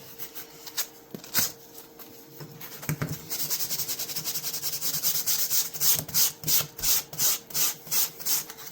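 An antique hammer knife is sanded by hand with 600 grit sandpaper, starting with a few scattered rubs, then building into a steady close scratchy rasping that turns into regular rhythmic back-and-forth strokes.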